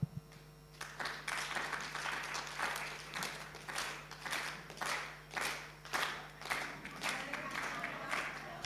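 A forum audience gives a rhythmic group clap, a series of roughly a dozen evenly spaced, fairly faint bursts of clapping with a steady low hum underneath.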